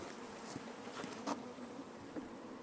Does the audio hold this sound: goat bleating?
no